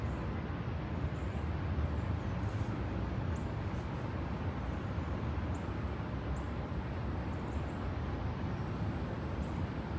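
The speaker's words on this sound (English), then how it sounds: "No, it's probably traffic, not the wind." Distant traffic noise forms a steady, continuous low rumble with no breaks or distinct events, heard outdoors during a meditation session. No one speaks.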